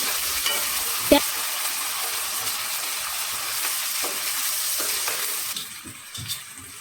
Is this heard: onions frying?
yes